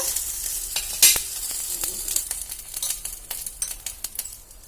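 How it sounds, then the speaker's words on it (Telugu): Whole green chillies frying in a spoonful of oil in a pan, a steady close sizzle with crackling pops and a sharp burst near the start, heard alone with no talk. "నేనైతే ఇట్లా మిరపకాయలు అయితే కొంచెం వేయించుకోవాలన్నమాట"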